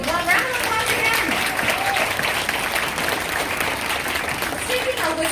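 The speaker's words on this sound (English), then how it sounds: "round of applause again" Audience applause after a live outdoor Broadway performance of Aladdin and The Lion King songs at The Shops at Columbus Circle in NYC, a steady, dense round of clapping from a crowd filling the whole stretch.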